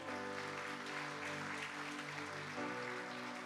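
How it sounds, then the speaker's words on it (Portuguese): A church congregation applauds during a family worship service, a soft steady clapping under sustained organ-like tones that continue evenly throughout. "Pode aplaudir mais uma vez a Jesus?"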